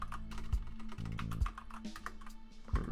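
Keys clattering on a computer keyboard while writing code, a close, steady run of quick taps with a few heavier strokes over a low hum, no talking.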